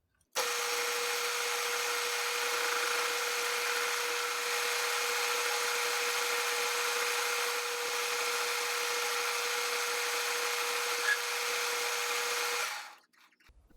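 A half-inch pipe turning on a lathe gives a steady mechanical whine with a strong constant tone. The whine runs unbroken for about twelve seconds and then cuts off as the machine stops.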